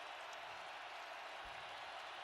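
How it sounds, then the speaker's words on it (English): A football stadium crowd roars steadily through a live NFL game, a broad, unbroken wash of cheering and applause that fills the whole span at a distant, even level. "Now this crowd is into it."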